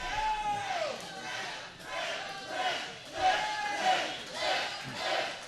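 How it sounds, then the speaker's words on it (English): A packed crowd at a professional wrestling event cheers and chants in loud rhythmic swells that rise and fall about once a second, with many voices shouting together. "You just listen to this crowd."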